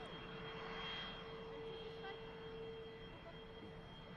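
A business jet at Manchester Airport gives a faint, distant, steady engine roar with a thin whine running through it, holding constant over a few seconds with no clear voices.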